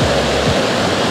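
The Tomebamba river flowing in Cuenca, low and dry: a loud, steady rushing wash of water heard close and continuous, with no voices.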